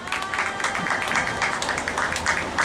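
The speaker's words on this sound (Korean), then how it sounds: "다시 한번 정원도 씨에게 큰 박수 부탁드리겠습니다." Audience applause for a poet at a Korean labor-struggle cultural evening, a steady wash of clapping filling the whole stretch with a faint crowd murmur beneath.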